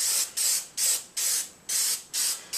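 Primer sprayed onto a Chauvet Q-Spot 260 LED fixture in five even, close, loud hissing bursts from a spray can, each about a third of a second with short gaps between.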